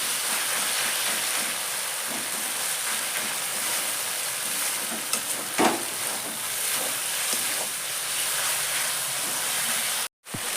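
Tomatoes with salt fry in a pan for a chicken kosha, giving a steady, loud, close hiss of sizzling with a brief scrape or stir partway through.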